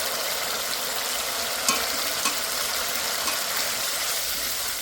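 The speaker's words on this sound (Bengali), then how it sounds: "এবার ভালো করে কষে নেব। দিয়ে দেবো কুচি করা টমেটো।" Spice paste with chopped tomato sautéing in a pan for a ridge gourd and lentil fritter dish, a steady close broadband sizzle with a couple of faint stirring knocks, no talking.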